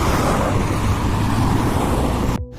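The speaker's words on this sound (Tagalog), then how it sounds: "Liliban lang ako ng kalsada, daming sasakyan." Heavy road traffic with many vehicles streams past near a hospital, a loud steady roar of engines and tyres with no speech, cutting out abruptly at the end.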